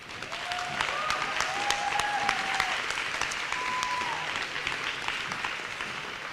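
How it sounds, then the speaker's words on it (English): A crowd at a youth national lead climbing championship final applauds the route setting team: dense, steady clapping fills the whole stretch, with a few higher whistle-like tones and cheers rising above it. "Big round of applause for the route setting team."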